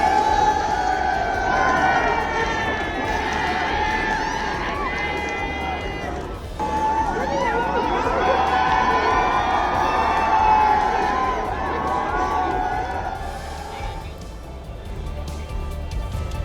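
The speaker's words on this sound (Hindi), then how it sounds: "उनके इस अंदाज को देखने के लिए दूसरी छतों पर खड़े हुए लोगों की भीड़ जमा हुई।" A crowd gathered on nearby rooftops during the Uttarayan kite festival, cheering and shouting with children's voices mixed in. The dense hubbub runs steadily throughout, dips briefly, then swells again.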